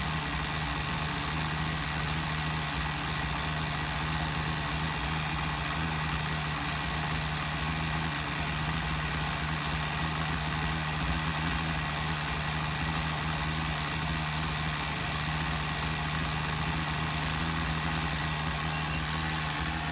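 A small high-revving nitro engine in a Tamiya TGS-R RC truck idles steadily and continuously, close up, with a constant buzzing drone and no talking.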